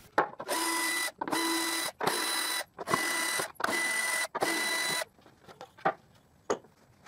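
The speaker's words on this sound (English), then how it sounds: "and I unscrew them." A power driver backs screws out of wooden table strips on a homemade drill press table, producing six short, evenly spaced whirring bursts followed by a few faint clicks and taps.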